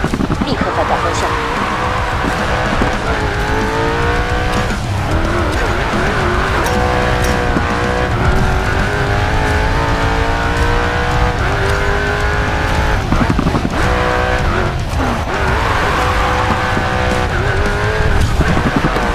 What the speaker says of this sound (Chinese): 在漂移失控时要迅速反应，立刻反打方向。